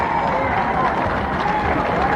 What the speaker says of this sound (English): Give them a big round of applause, but I want you all to stand.